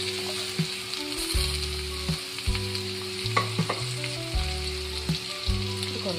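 Chopped lemon pieces fry in a pan for a lemon pickle, giving a steady close sizzle with repeated stirring scrapes and soft knocks throughout, under faint background music and with no voice.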